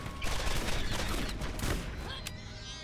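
Assault rifle and shotgun fire in Borderlands, dense overlapping shots packed closely in a loud barrage that eases off toward the end.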